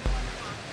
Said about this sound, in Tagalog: napakalakas ng buhos ng ulan ngayon dito sa Barangay Darangan